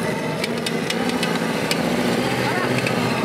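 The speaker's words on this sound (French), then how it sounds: "Je vais vous demander d'écouter le ralenti, le régime moteur" A stunt motorcycle idles steadily and revs during a stunt demonstration with women riders at a stunt school, close and continuous, while people talk over the engine.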